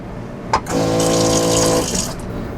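Water runs from a hands-free wash system with a wireless Yamaha MIDI foot pedal on a 12-volt supply. A click starts a steady rushing flow that hums for about a second, then stops.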